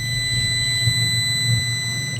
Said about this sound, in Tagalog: 'Di ba? Nag-buzzer.